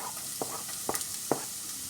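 Half a small onion hits hot oil for aloo gobi and gives a steady, close hiss of frying. Occasional soft clicks and pops break through the hiss as a spoon stirs the pan.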